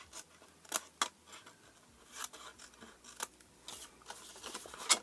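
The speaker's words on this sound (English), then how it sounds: "cut on the inside of the score line so that the bulgy piece is there" Scissors snip through card along a score line while a small Easter box for Cadbury eggs is made, giving a string of sharp, close cuts at irregular intervals with quiet gaps between.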